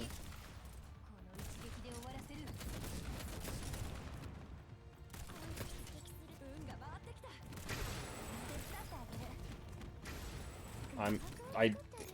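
Gunfire in the game Girls Frontline, rapid volleys of shots and mechanical clatter running steadily beneath someone talking, with a few louder bursts near the end.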